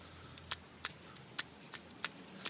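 Sharp, crisp snips of scissors or shears cutting back heuchera foliage into a rounded bowl shape, about seven quick cuts spaced roughly evenly, close and clear over a quiet garden background.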